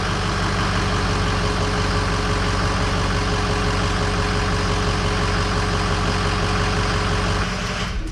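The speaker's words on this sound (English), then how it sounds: "I think you're gonna hear it, it's a diesel." A 2005 Ford F-250 Harley-Davidson Edition diesel pickup idles close by with a steady, loud, low clattering rumble that barely changes, then cuts off at the very end.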